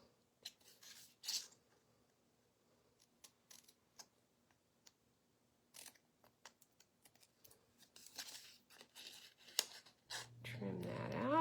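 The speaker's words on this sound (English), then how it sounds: "Just take your scissors and do a little snip where the indentation is, all the way down there." Scissors make a series of small, sharp snips on paper during a craft project, irregular clicks spread across the moment and close by, with a voice starting to talk at the end.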